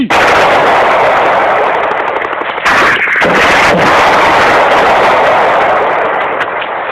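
Loud, relentless gunfire from a film crackles in dense bursts, with rapid automatic shots and heavy booming blasts packed together almost without pause.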